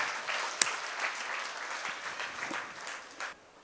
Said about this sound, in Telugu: చప్పట్లతో దేవుని స్తుతిద్దాం.